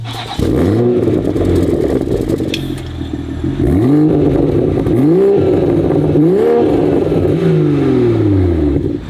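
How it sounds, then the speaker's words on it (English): A MK5 Toyota Supra GR with an Apexi titanium exhaust is revved hard several times in a row. Each sharp, loud rise in engine pitch falls back to a rumbling idle, and nobody talks. "Apexi exhaust titanium tips. Sounds beautiful, but it even sounds more beautiful. Why don't we give it a listen?"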